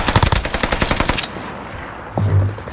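Rapid automatic gunfire from Call of Duty Warzone on Rebirth Island, a loud burst of fast shots in the first half followed by a deeper rumbling blast, with no talk over it.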